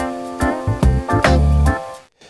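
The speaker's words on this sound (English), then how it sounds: "that noise is called quantization noise, which is a feature of any digital system" Music run through the Audio Thing vinyl plugin at 6-bit reduction, with harsh, gritty quantization noise layered over sustained tones and low plucked notes, loud and close, cutting abruptly to near silence at the end.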